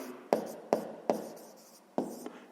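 A pen writes out a math solution on paper in four short, crisp scratching strokes at an uneven pace, close and quiet, with no talking.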